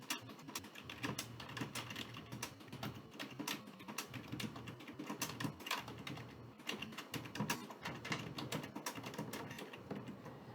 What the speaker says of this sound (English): You could type in whatever you want in that message.